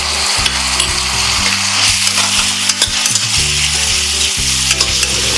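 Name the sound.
garlic and ginger frying with onion in oil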